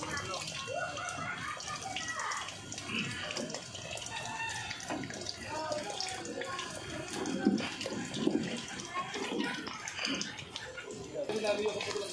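Water runs steadily from an outdoor tap, a faint continuous splashing, with people talking nearby and a rooster crowing in the background.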